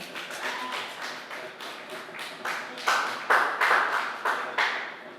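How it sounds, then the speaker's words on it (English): Audience clapping at a formal event, a spread of individual claps that swells in waves and grows louder toward the end before tapering off, with no talk over it. "Can you clap for him?"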